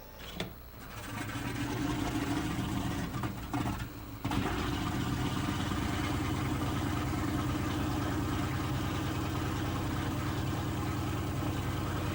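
A B-17 bomber's radial engine cranks briefly, then catches at about four seconds and runs on in a loud, steady, rough idle.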